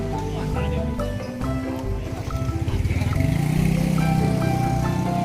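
A motorcycle engine rises and draws close, its low rhythmic putter growing louder over the last few seconds, amid chicken clucking near a flock being fed outdoors.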